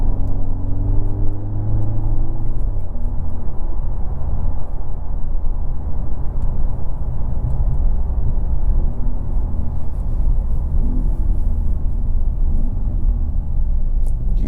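A 2024 Mercedes GLC43 AMG on summer tires powers through a corner, heard from inside the cabin as a steady, loud low engine and road rumble that holds evenly throughout.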